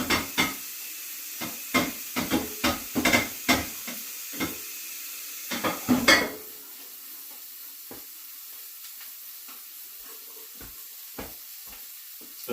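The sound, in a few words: thinly sliced chicken searing in a pan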